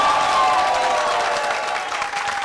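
Broad, continuous crowd applause from a roller-skating association's group at a live televised community evening event, loud at first and easing slightly toward the end.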